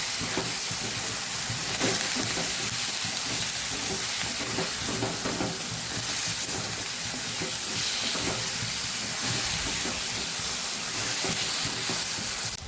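Ridge gourd curry with masala and fresh coriander being mixed in a hot pan, a loud continuous sizzle and hiss with steady stirring scrapes, close and without talk.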